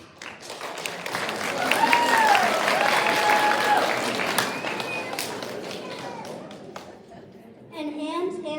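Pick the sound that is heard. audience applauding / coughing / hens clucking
audience applauding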